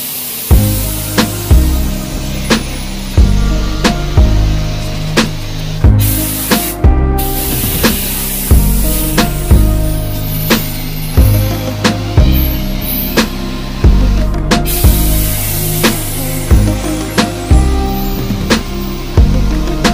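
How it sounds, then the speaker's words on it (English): A spray can lays light base coats on an e-bike frame in short, repeated hissing bursts at a loose, regular rhythm, close and loud over steady background music. "just do some nice light coats and just build this up"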